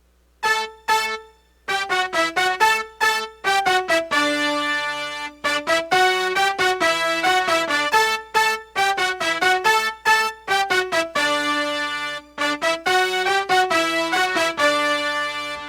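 A bright, punchy piano riff of short staccato chords and notes in a brisk repeating rhythm, playing a song's brass-section intro in D, alone and clearly.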